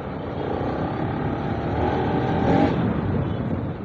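A Bajaj Pulsar RS200 motorcycle carries two riders on a city ride in Jodhpur, its engine and exhaust giving a steady, close droning hum that swells slightly toward the end, with no talking.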